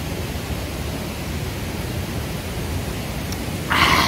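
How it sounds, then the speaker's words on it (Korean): Loud mountain stream rushing through a forest valley, a dense steady roar of water filling the whole sound close by, with a brief brighter splash near the end and no voices. "계곡 소리가 어마어마하게 우렁차거든요"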